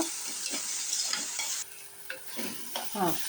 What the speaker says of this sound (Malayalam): നമ്മുടെ സവാളയും തക്കാളിയും ഇഞ്ചിയും വെളുത്തുള്ളിയും കറിവേപ്പിലയും എല്ലാം നന്നായിട്ട് വഴണ്ട് വന്നിട്ടുണ്ട്